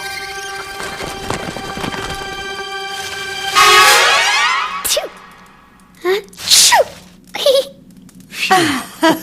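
A single sharp sneeze from a young cartoon reindeer calf, following horse-like clip-clop hooves and a whinny, with voices and short exclamations around it.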